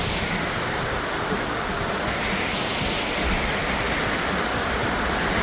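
Rain falling outdoors in Nepal, a dense, steady broadband hiss of heavy rainfall, loud and close, unbroken throughout with no talk.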